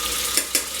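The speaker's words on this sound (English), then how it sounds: "Give it a gentle stir." A spoon stirs elephant's foot yam gravy in a hot pan, giving a steady close sizzle with two brief scraping swishes.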